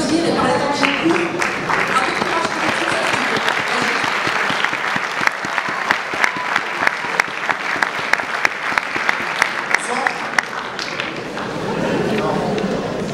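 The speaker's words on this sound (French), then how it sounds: "On peut l'applaudir" Loud audience applause fills a packed hall, dense steady clapping lasting throughout with sharper individual claps standing out near the end and voices faintly mixed in.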